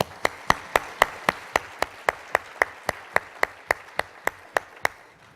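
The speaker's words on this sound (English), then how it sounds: "I'd like to give another round of applause" Steady rhythmic clapping at a forum, about twenty sharp, evenly spaced claps over five seconds, fairly close and clear, like one or a few people clapping in time with no talk.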